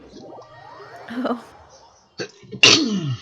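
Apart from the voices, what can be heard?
sneeze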